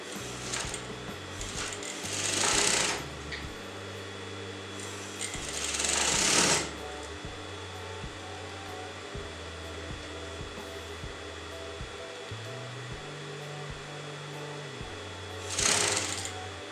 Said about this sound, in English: place your interfacing canvas on top of the pattern fabric like this, and I'm going to sew that together